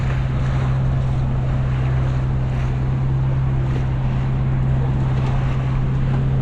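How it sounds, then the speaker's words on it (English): A pilot boat passes nearby off Sardinia, its steady low engine drone humming beneath constant wind and water rush, loud and close, with no voices. "Yeah, pilot boat."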